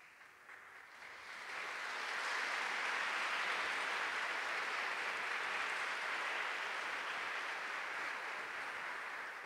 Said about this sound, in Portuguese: Eu não sei por que vocês estão batendo palmas.